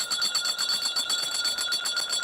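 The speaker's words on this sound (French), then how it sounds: "La cloche est en train de retentir pour annoncer leur entrée" A bell rings quickly and steadily in repeated bright strokes for the entrance of the court members at a presidential investiture ceremony. It sounds moderately loud and continuous, with no speech.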